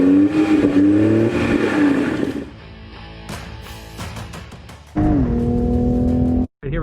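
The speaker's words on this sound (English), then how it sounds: "Yeah, this car has some power. The acceleration is pretty awesome." A 2021 Toyota Supra accelerates hard on a test drive near an airplane hangar. The engine revs loud and close, rising in pitch, then drops back with each gear change before climbing again. There is no talk.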